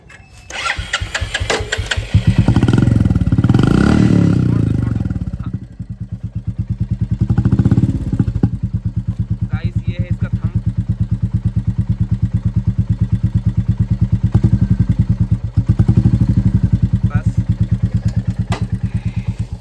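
A Royal Enfield motorcycle fitted with an HKK Indori exhaust starts up and idles with a steady, close, rapid thumping beat, with a couple of louder blips of revving along the way.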